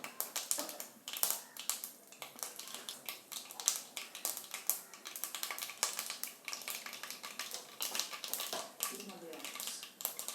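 Mustard seeds pop and splutter in hot oil in a heated pan for a Kerala-style tuna fish pickle, a dense, continuous crackle of sharp little pops across the whole stretch.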